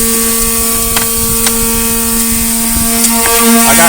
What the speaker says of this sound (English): I got help sanding, so that's where you're hearing all the noise